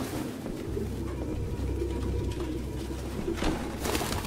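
Pigeons coo softly on a city street in the Detroit: Become Human video game, a low murmuring of several birds against a steady ambient rumble, with no talking.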